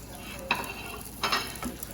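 Steak and eggs frying on a Blackstone 17-inch E-Series griddle, a steady soft sizzle broken by a few sharp spatula scrapes and taps, close and moderately quiet with no talking.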